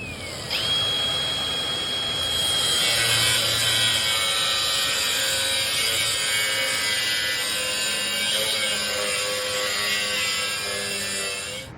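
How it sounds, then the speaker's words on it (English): An angle grinder cutting stainless steel, rocked back and forth through the cut, a loud continuous high whine with a grinding rasp that holds steady for about twelve seconds, no talk. "I like to rock that grinder back and forth so you don't heat that stainless up too much"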